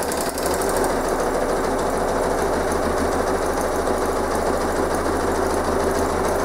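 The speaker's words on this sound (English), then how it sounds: "I can let the machine feed it by itself, but I'm giving it just a little bit of a push here." A sewing machine runs a short 0.4 millimetre zigzag stitch on a postcard, a steady rapid mechanical chatter, close and continuous, with no talk over it.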